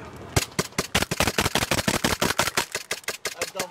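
Rapid gunfire as a shooter empties a full magazine during a convoy ambush drill, a fast string of sharp, loud, evenly spaced shots close by.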